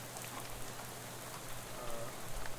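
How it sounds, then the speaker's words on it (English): Steady, even rain patters throughout the town scene in Shadows Over Loathing, a dense continuous hiss of drops falling on surfaces, moderately loud and unbroken, with no voices over it. "he looks up and lets the rain splash on his face for a while"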